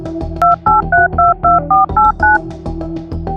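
Phone keypad tones beep in a quick run of about eight short, evenly spaced presses, close and clear against a low background hum.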